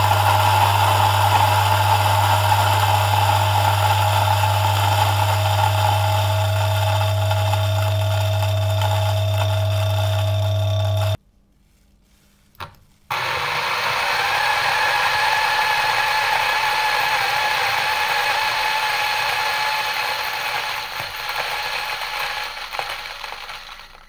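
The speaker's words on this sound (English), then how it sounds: "The DF64 Gen 2 is a bit noisy, but I will also say that it depends a lot on the burrs you put in it." A DF64 Gen 2 coffee grinder fitted with SSP multi-purpose burrs grinds loudly with a steady low motor hum and whine, cuts off briefly for about two seconds, then resumes with a grittier, brighter grinding that tapers toward the end.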